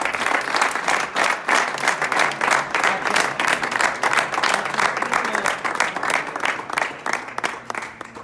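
A crowd applauds at the Knights' toast during the 65th Palio dei Normanni, dense, sustained clapping that stays loud and even for several seconds.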